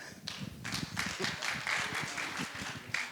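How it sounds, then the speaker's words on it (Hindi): Audience applause at a religious gathering, scattered uneven clapping from a crowd, fairly faint and distant, rising and falling over a few seconds without a sustained ovation. "आपकी तालियां बहुत कम बजती हैं"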